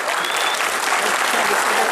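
Loud, dense audience applause fills the whole stretch at a solidarity couscous charity evening in Chambéry, a steady wash of many hands clapping with faint crowd murmur underneath.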